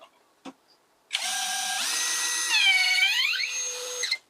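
A power drill drives a magnetic hex-shank screwdriver bit, whirring loudly and steadily for about three seconds, its pitch rising and dipping as the speed shifts, with nothing else heard.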